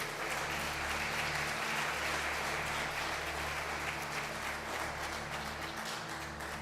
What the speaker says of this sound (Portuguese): Então dê para Jesus uma forte salva de palmas